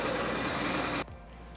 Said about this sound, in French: j'ai enregistré ça à côté d'une moto qui était en marche